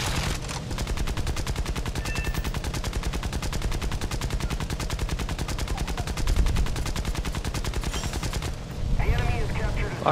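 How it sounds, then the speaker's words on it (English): Rapid machine-gun fire rattles nonstop at close range in a War Thunder air battle as rounds hit the player's plane, one long sustained burst with a brief pause and a renewed volley near the end. "Is that someone shooting at him, hitting me?"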